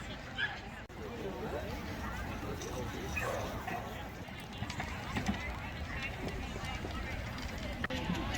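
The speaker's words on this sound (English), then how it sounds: "So here we have Great Danes." Great Danes at an all-breed dog show in Calgary, with barks and yips rising out of a dense, noisy crowd. People talk throughout, and the barking is never clearly separated from the wider commotion.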